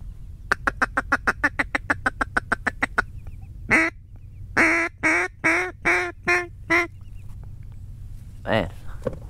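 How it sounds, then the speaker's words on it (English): Puddle ducks quack on a Louisiana morning hunt: a fast run of short, evenly spaced calls, then a string of longer, louder quacks, nearby and clear over a quiet background. "so real refreshing to see these puddle ducks this morning"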